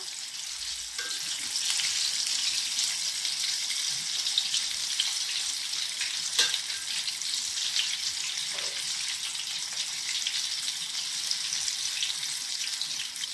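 Chicken pieces for homemade KFC-style fried chicken fry in oil over a low flame, giving a dense continuous hiss with faint occasional pops, close and steady without speech.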